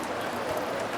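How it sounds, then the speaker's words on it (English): Heavy, drenching rain pours down outdoors, a dense, steady hiss of drops filling the whole second at moderate level with no pauses. "It's absolutely drenching,"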